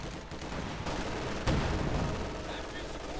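An MG4 machine gun fires in the video game Company of Heroes 2 as a dense, continuous rattle of gunfire mixed with battle noise, with a sharper blast midway, moderately loud throughout.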